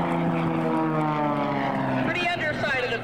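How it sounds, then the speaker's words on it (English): Propeller-driven aerobatic airplane making a knife edge pass at the 2003 Kern County Airshow, a loud sustained engine drone with shifting pitch as it sweeps past, with a voice speaking over it. "And now he's going to come back for the knife edge pass I talked about"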